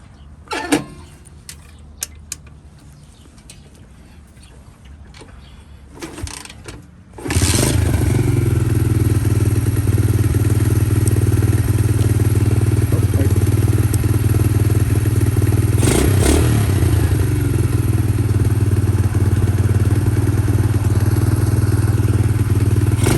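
A Honda CL70K3 small motorcycle starts after a few clunks and handling noises, then its engine runs loud and steady for the rest of the clip, humming close by as it idles and rides off.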